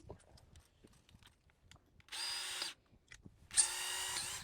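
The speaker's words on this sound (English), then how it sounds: "You want to drill a little hole?" A power drill whirs in two short bursts, each under a second, close by, drilling a small hole, with quiet clicks and shuffling between them.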